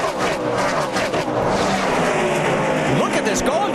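NASCAR stock cars race at Texas in a tight pack, a loud continuous engine roar with shifting pitch sweeps as cars pass, heard under a commentator talking.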